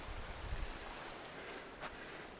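A creek flows beside a steep mountain hiking trail near Pine Creek Pass, a steady, faint broadband rush of water with no talk.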